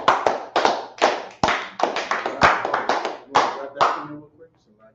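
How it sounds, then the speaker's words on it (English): A small group claps for a class, giving about a dozen loud, close, rhythmic bursts of hand claps that stop abruptly, leaving faint voices behind. "Let's clap it up for the class."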